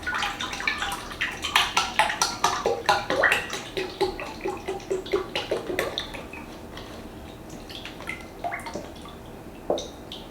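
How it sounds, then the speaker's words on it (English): Heavy cream is poured into a bowl with a close, wet splashing and dripping. It comes as a run of rhythmic glugs that thins into occasional drips, with no one speaking. "I'm gonna pour all of it."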